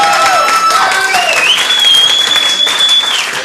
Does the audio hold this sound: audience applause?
yes